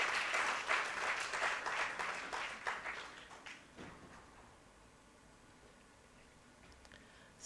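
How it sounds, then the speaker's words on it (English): Applause for graduates at a university convocation ceremony in a large hall: fairly faint, scattered clapping that tapers off within a few seconds and leaves a quiet room. "Please keep on clapping for all the graduates."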